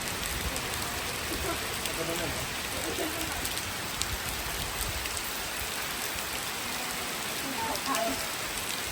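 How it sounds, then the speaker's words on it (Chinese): Rain falls steadily in a dense, even hiss that holds at the same level throughout, close by and with no clear voices over it. "它一定会下雨，我一定会挨淋"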